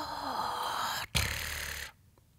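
A single close breath sample, airy and soft, runs for about a second, breaks briefly, then returns with a short exhale before fading to near silence.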